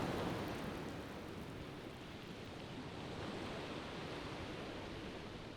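Steady rain sound from a sleep sound machine, a dense continuous hiss of broadband noise like rainfall, even and unbroken throughout with no talking.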